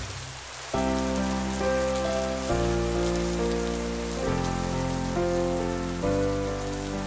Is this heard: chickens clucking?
no